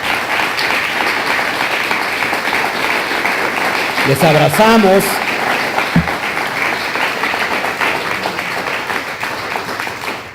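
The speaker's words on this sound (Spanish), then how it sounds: "¿Por qué no les damos un fuerte aplauso?" Congregation applause during a church service, a full, steady round of clapping with a voice briefly speaking over it midway.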